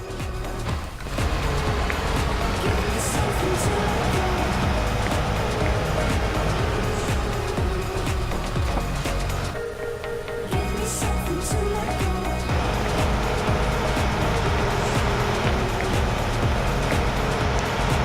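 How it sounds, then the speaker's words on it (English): A tractor in Farming Simulator 19 drives with a continuous low engine drone and broadband rumble, briefly dropping in level for a moment midway before resuming steadily. "We'll go park this tractor back."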